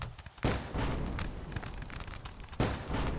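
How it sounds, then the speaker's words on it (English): Rapid bursts of fire from a puckle gun in the Rise of Liberty American Revolution battle game, loud repeated shots with two sharp heavy blasts standing out over continuous battle noise. "Alright, I think we need to buy a puckle gun."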